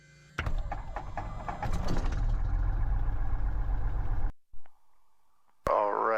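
A Cessna 172 piston engine catches on the ignition start and settles into a loud, steady idle heard close up from the cockpit, with a quick drop and radio-like tones near the end.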